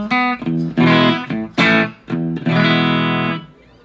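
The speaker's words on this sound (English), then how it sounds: "Then we have a little bit of a warmer clean tone." Short strummed chords on an electric guitar through an amp set to a warmer clean tone, loud and near, each chord cut off before the next, then a fade to quiet.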